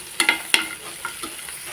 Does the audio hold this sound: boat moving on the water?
no